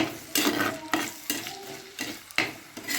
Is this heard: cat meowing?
no